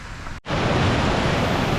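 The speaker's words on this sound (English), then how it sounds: "Now we got some water flowing down from up beyond the trees there and coming out down here" Water rushes down a hillside stream from beyond the trees beside a paved downhill trail near Gimmelwald and Mürren in Switzerland, a loud, steady broadband roar that cuts out for an instant and then continues unbroken and close.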